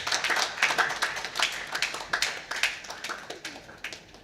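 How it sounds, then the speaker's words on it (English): Scattered hand clapping from a ceremony audience at a scientific conference day, fairly faint and uneven, with individual claps distinguishable as it slowly thins out. "Can we have a big round of applause?"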